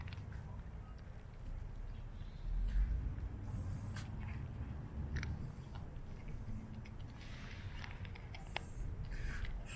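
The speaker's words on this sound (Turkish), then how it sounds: "Şu yeme sesi kıt kıt kıt." Faint, irregular crunching and small ticks of a street animal eating dry food, soft and close over a low rumbling background.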